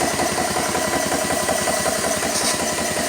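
A small engine on a Hill and GX CS3 setup idles in a steady, fast, even chug, close and continuous throughout with no talking.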